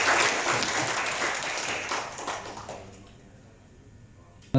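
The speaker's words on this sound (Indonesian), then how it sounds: "kita tepuk tangan sekali lagi Bapak-bapak," An audience of men and women at an MoU signing ceremony for mass housing loan financing applauds steadily for a few seconds, then the clapping fades away into near quiet.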